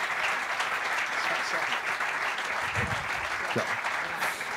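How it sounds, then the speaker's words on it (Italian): Steady applause from the audience at a community networking event in Pieve Torina, continuous clapping for over four seconds with a few low voices underneath. "e poi un altro applauso"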